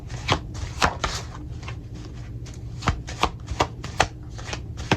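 Tarot cards being shuffled by hand, a loud, close series of crisp riffling slaps and snaps, uneven in rhythm, about a dozen distinct bursts over a soft papery rustle.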